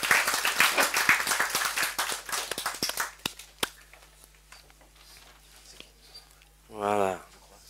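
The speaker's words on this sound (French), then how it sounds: "on les applaudit" Audience clapping for a happy father arriving with his baby, a burst of many hands that thins out and fades after a few seconds, followed by quiet room noise and a brief voice near the end.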